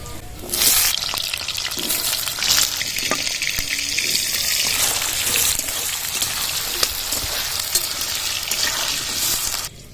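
Potato pieces frying in oil tempered with five-spice, bay leaf and dried red chilli, giving a dense, loud, continuous crackling sizzle for several seconds. A few clinks sit under it, and it stops abruptly at the end.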